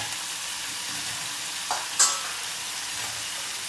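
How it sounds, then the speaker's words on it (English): Cauliflower and potatoes fry in spices in a pan with a steady, close sizzle, broken by two quick scraping stirs just before the midpoint. "Give this all a good stir through"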